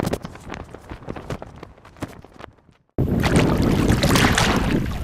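A high tide surge driven by strong wind: sporadic crashes and rustling give way midway to a loud, steady roar of wind buffeting the microphone and rushing water, close and continuous.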